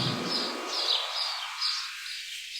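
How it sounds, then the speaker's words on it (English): Small birds chirp and tweet in repeated high, thin calls from a field recording, with the low background rumble gradually cut away until only the bright bird calls remain, fairly faint and without any voices. "What if we EQ out the lows from this bird recording so it is a lot more just the birds?"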